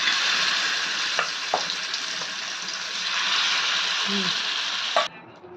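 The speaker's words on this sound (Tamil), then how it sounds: "மீனை நல்லா தோசைக்கல்ல நம்ம வறுத்து எடுத்துக்கலாம்" Marinated fish fries on a dosa griddle, a dense steady sizzle heard up close, with a couple of light spatula taps before it cuts off near the end.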